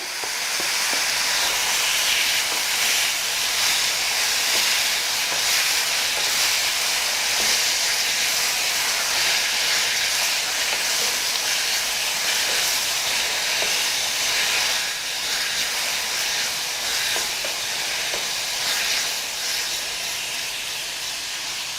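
Chopped tomatoes fry in oil in a pan for a South Indian tomato curry, giving a loud, steady sizzling hiss with faint crackles that carries on throughout without any voices.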